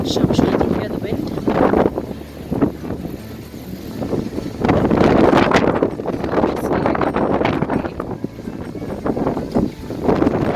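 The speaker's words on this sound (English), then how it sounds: "The wind is so strong." Strong stormy wind blowing outdoors on a balcony before rain, a loud continuous roar with repeated gusts surging and easing throughout.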